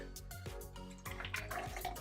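Pineapple and tulsi drink mix being poured into a container, a short liquid splash and trickle with gurgling bursts that swell toward the end, close and fairly quiet.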